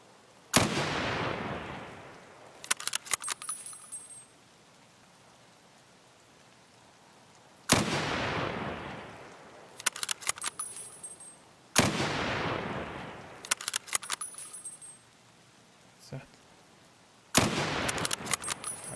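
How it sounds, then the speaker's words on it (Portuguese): Four sharp, loud gunshots in the video game Escape from Tarkov ring out several seconds apart, each with a rattling, echoing tail and scattered clicks afterward. "esse tiro pegou"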